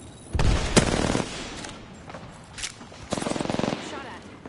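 Gunfire in the video game Apex Legends, with two loud bursts of rapid automatic fire separated by scattered quieter shots and a brief single crack.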